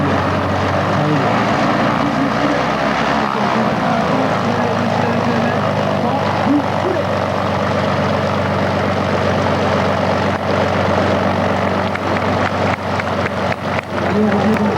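A heavy 2,700-horsepower propeller aircraft engine drones steadily and loudly throughout at an air base in Pruniers-en-Sologne, with a deep rumbling throb that holds nearly constant.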